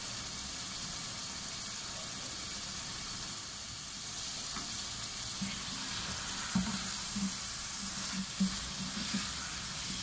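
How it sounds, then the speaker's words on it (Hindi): Peas and potatoes sizzle in a pan over a medium flame, a steady close hiss of frying with occasional soft scraping stirs toward the end, no voices. "इसको हम भून देते हैं 5 मिनट और मीडियम फ्लेम करके अच्छे से।"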